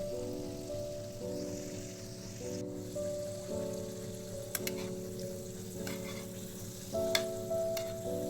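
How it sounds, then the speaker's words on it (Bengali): Pieces of a simple two-ingredient tiffin snack sizzle steadily in hot oil, a close crackling fry with occasional sharper pops and spatters. "এভাবে আমি বাকি সবগুলো ভেজে নিচ্ছি আর উপরে একটু তেল ছড়িয়ে দিচ্ছি"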